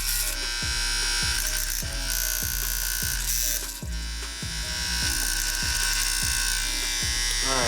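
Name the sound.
Andis Master vintage '64 hair clippers running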